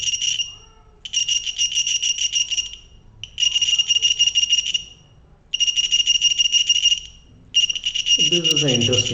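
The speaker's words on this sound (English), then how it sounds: "With the vibration, the buzzer blows." A buzzer triggered by shaking a vibration sensor module gives out a loud, steady high-pitched electronic tone in five long bursts separated by short gaps, while a voice speaks briefly near the end.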